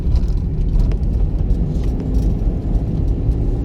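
A car's engine rumbles loud and low inside the cabin during a driving lesson, a steady, slightly fluctuating drone as the throttle is held.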